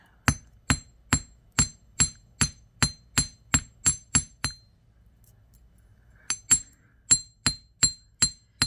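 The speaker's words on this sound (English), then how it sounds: "we're going to hammer these down some" A jeweller's hammer strikes wire earring components flat on a metal block, a run of sharp, ringing metallic taps at an even rhythm, then a short pause before another quick series of blows. No one speaks.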